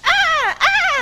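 A person imitating a dolphin: two high, squeaky, whistling chirps with bending pitch, loud and close.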